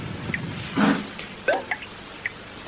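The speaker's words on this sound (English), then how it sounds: "That's dripping." Water dripping from a leak in a hotel room: a few faint, separate drops plop and tick at uneven intervals against a quiet indoor hush, with one duller splat near the start.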